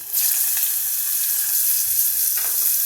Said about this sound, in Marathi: वाटण हे वाटण मी यामध्ये घालते आणि वाटणासोबतच आपण आता ही तोंडली पण यामध्ये घालून घेऊ